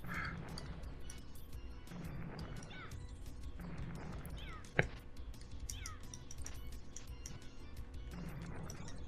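A cat meows repeatedly in Castlevania Rondo of Blood, with several short mews over steady game music and a brief sharp hit midway, while people talk over it.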